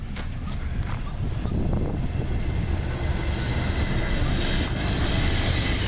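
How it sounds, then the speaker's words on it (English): A freight train rolls past a level crossing close by, a loud, steady rumble of wheels and wagons holding for the whole stretch without letting up. "There's a freight train coming through now."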